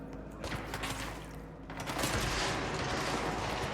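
Rapid gunfire from the Control video game, a dense continuous fusillade of shots sustained over a few seconds, moderately loud and building slightly toward the end.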